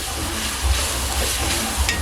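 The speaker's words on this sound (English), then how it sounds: "Stir this up." Thyme stirred into tomato bisque in a hot pan gives a brief, steady, close sizzling hiss with soft stirring movement and no talk.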